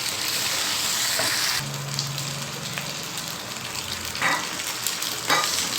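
Keema macaroni stirred in a pan, a low sizzle beneath repeated scraping sweeps of a spoon, with a brief low hum early on and sharper scrapes toward the end.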